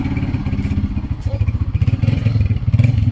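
A motorcycle ridden on a road in Pakistan, its engine putting out a continuous low, throbbing drone with rhythmic pulsing, close and fairly loud, with some rattling and clatter over it.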